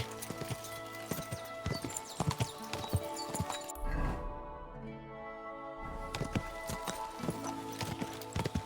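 Rhythmic horse hooves clip-clop steadily on hard ground in the video game Kingdom Come: Deliverance II, pausing briefly mid-way for a low rumble, then resuming at a walking pace.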